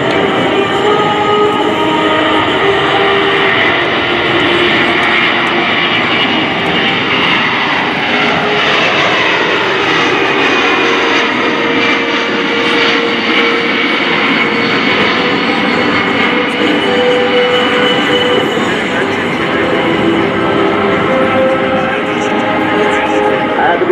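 A C-17 Globemaster III jet taking off at an air show, a loud sustained engine roar with whining tones that shift in pitch as it climbs away, with faint voices beneath.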